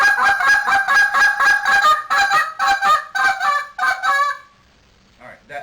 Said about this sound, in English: I build into it with a cluck and the quick spit, bouncing off each other, then into the quick spits, and then the quick spits followed by that hybrid note.